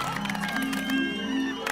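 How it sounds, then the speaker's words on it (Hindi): A crowd of guests at a family gathering in a Hindi comedy applauds and cheers the doctor and his wife, a dense wash of clapping with raised voices and whoops under a sustained tonal hum. "मैं एक बार आप सभी से ये गुजारिश करता हूं कि डॉक्टर और मिसेस हाथी को हम एक बार जोरदार तालियां बजा के इनका अभिनंदन करें।"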